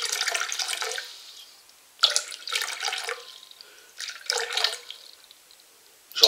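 Water for a boilie mix is poured in several short bursts: splashing trickles that start and stop, with quiet gaps between pours.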